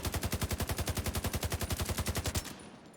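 An assault rifle in The Division 2 fires a sustained automatic burst of about two dozen evenly spaced, loud shots in steady rhythm, then stops abruptly, leaving a brief fading tail.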